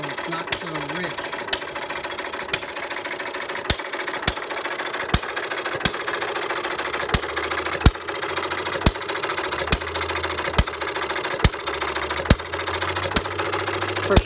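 A Perkins vertical side-shaft hit-and-miss model engine runs steadily up close, its regular sharp firing beats spaced about a second apart over a continuous mechanical clatter.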